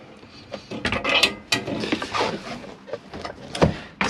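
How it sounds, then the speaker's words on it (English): A slide-out cutlery tray in the kitchen of a Bailey Approach Autograph 745 motorhome is pulled out, making close, uneven clicks, rattles and short sliding scrapes. "Slide out cutlery tray,"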